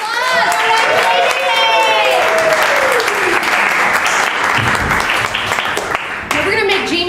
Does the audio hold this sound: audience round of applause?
yes